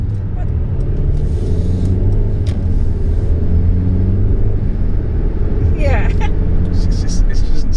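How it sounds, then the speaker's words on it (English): A 2017 Mercedes C200 automatic heard from inside the cabin, its engine a steady low rumble that swells and eases gently under faint voices. "it's nice to hear the engine sort of rising and falling"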